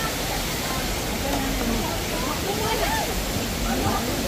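Waterfall at Villa Escudero roaring as a steady, broadband rush throughout, with people talking and chattering over it in a crowded outdoor dining spot.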